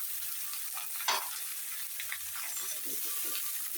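Cut beans, potato and eggplant going into a pan on top of frying tengra fish, with soft continuous sizzling, a sharper hiss as the vegetables land, and faint stirring scrapes.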